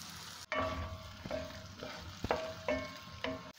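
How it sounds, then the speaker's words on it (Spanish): Potatoes with sweet paprika frying in a pan while being stirred: a continuous sizzle broken by several sharp scrapes and knocks of a utensil against the pan at an irregular rhythm. "Le vamos a echar una cucharada de pimentón dulce. Y vamos a darle una vueltecita durante un minuto."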